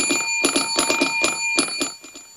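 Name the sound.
alarm clock ringing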